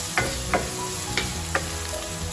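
Onion and garlic frying in a pan give a steady close sizzle, broken by four soft stirring scrapes spaced through the sound.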